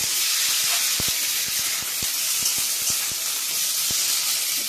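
Onions fry in hot oil with cumin seeds, giving a loud, continuous sizzle close by with a scatter of sharp, irregular pops and crackles throughout.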